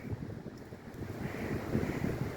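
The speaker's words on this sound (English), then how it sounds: "It's really kind of windy today, but it's not so bad." Gusty wind on a sunny, warm day in the Talladega National Forest's Cheaha Wilderness, heard as a broad, rushing buffet against the microphone that swells slightly stronger toward the end.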